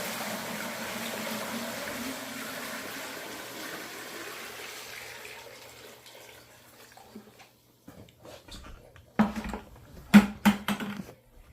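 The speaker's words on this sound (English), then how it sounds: "I'm just gonna refill the bucket with water real quick." Water pours steadily into a bucket for refilling an outdoor stock-tank pond, a broad rushing flow that fades out after about seven seconds, followed by a few short splashes and knocks.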